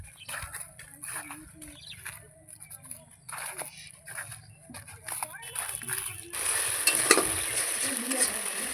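Ginger, onion and chili pastes fry in a pan for a fish curry, giving a steady sizzle with stirring and utensil scrapes that grows louder and brighter near the end, under a voice talking throughout.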